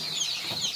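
Freedom Ranger meat chickens crowded in a pen give soft, overlapping clucks and chirps, a brief, moderately quiet flock murmur.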